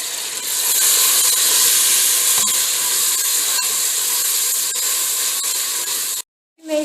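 Tomatoes and green chillies frying in a hot pan, a loud steady sizzling hiss with faint pops, continuing unbroken for several seconds before cutting off briefly.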